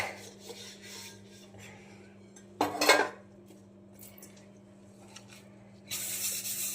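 Dishes being washed at a home sink: soft clinks of pots and utensils, a brief burst of scraping or scrubbing, and running water near the end, all over a low steady hum.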